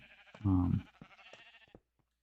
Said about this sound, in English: You just heard it fire. That's all the sheep get sheared.